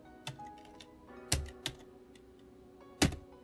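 Typing on a computer keyboard at a Raspberry Pi 4 Model B running Kali Linux, a few separate sharp key presses spaced irregularly over a low steady hum, close and clear.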